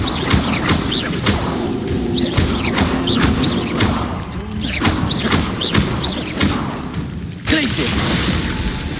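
Confringo blasting spell explosions in the Hogwarts Legacy video game, a busy run of sharp shattering crashes and thuds repeating through the scene at steady loudness, with a voice briefly speaking among them.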